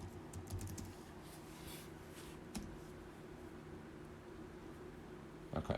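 Keystrokes on a computer keyboard tap along steadily at close range, quiet and unhurried, entering a plugin name into a search box with a faint mouse click near the end.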